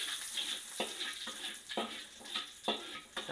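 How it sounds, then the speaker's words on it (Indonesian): Chopped garlic sautés in a hot pan for a minced pork and tofu soup, a steady close sizzle broken by several stirring scrapes at irregular intervals. "Kita tumis."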